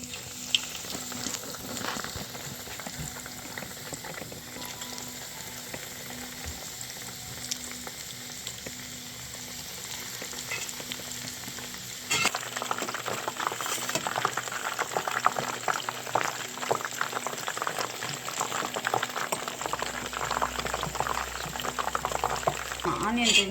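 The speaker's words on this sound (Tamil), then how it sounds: "இங்கே ஆயில் நல்லா சூடானதுக்கப்புறம் நம்ம ஒவ்வொரு ரிங்ஸாக போட்டு பொரிக்க போகிறோம்." Onion rings deep-frying ring by ring in hot oil, a steady close bubbling sizzle that grows denser and louder partway through, with a low hum joining near the end.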